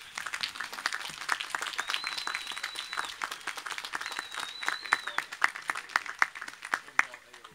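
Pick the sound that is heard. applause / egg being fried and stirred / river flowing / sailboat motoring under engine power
applause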